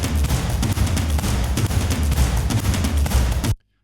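A dense layered percussion mix of toms, stomps, Cuban percussion, shakers and claps pounds continuously in a loud, busy wall of hits, then cuts abruptly to silence.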